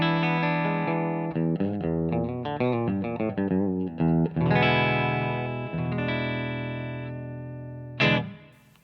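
Electric guitar on a clean tone through a Bravado amp with the bright control on position 2, played as quick single-note runs and then sustained ringing chords.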